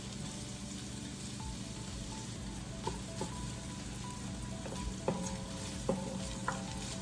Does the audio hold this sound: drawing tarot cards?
no